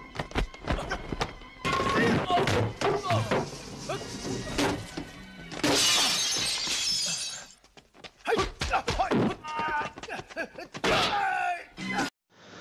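Fistfight scene from the 1988 film Police Story 2: a dense run of hits, crashes and glass shattering, with loud bursts and brief pauses, plus some shouting mixed in.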